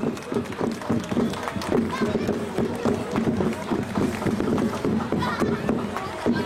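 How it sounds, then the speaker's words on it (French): Carnival crowd at the Hoerdt carnival applauding friends from Rastatt: dense, continuous clapping and crowd noise, loud and close throughout, with voices mixed in the din. "Attention, applaudissements, mesdames et messieurs, pour nos amis de Rastatt."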